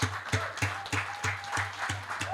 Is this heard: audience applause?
yes